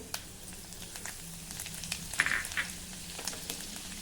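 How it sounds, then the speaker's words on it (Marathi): Cumin seeds and finely chopped garlic sizzle softly in hot oil, a quiet, steady frying hiss broken by light crackles and a brief louder spatter near the middle. "तेल गरम झालं की त्यामध्ये थोडं जिरं घालूया. जिरं तडतळलं की 3 ते 4 लसूण पाकळ्या अशा बारीक चिरून घालायच्या आहे."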